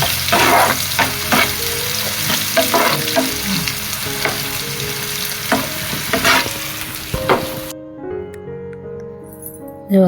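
Onion fries in oil with curry leaves, cumin and mustard, giving a close sizzle under repeated clanks and scrapes of a spoon stirring in the pan, then the frying cuts out near the end, leaving a faint tonal background.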